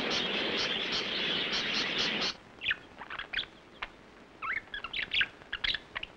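A flock of wild budgerigars, small grass parakeets, gives a dense wash of chattering chirps at first, then thins to scattered, sharp individual calls against a quiet background.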